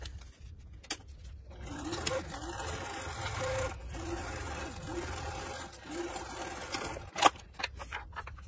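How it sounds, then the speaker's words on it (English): A sewing machine stitching fabric for a Cricut Maker dust cover runs in several short rhythmic bursts separated by pauses and faint handling noises, close and moderately loud, with no talking. "stitch it at 1/2 inch down from the fold, and do the same with the other pocket"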